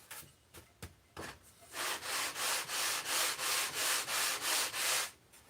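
A sanding bar is rubbed back and forth over the leading edge of a foam model aircraft wing, giving about ten even, close rasping strokes in a steady rhythm after a few light scuffs at the start.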